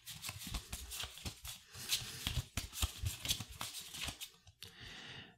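A small stack of five game cards from the Too Many Bones tabletop game is shuffled by hand, giving a run of quick, crisp riffling snaps and slides, close and fairly steady, with no talking.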